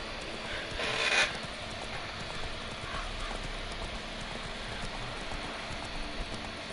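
Soft rhythmic horse hoofbeats clip-clop at an easy pace in The Witcher 3 over a steady ambient bed, with a brief brighter swell of noise near the start.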